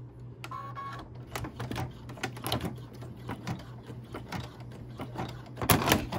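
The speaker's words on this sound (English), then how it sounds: "it broke another needle" An embroidery machine stitches a rope coaster with a rapid, steady mechanical clatter of needle strokes, close by, and a louder, sharper burst near the end as a needle breaks.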